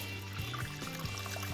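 A margarita cocktail pours into a glass in one short, steady liquid stream with faint gurgles, close up and moderate in level.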